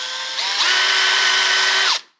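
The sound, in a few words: power drill drilling screw holes for deadbolt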